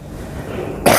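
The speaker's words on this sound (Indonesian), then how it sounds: "Minta maaf lah, ulun batuk terus" One sharp, loud cough bursts out near the end of a short, quiet stretch, sounding close in a mosque setting.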